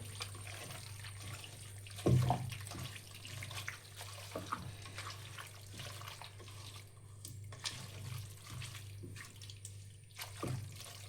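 Water pours steadily into a pot of beef curry, with a few soft clinks along the way and a low hum beneath.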